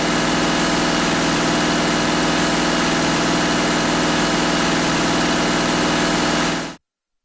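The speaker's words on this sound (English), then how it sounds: "Run the engine at high idle and record the gauge readings." A diesel engine with a common rail injection system runs steadily at high idle, a loud, even drone that holds constant for nearly seven seconds before cutting off abruptly.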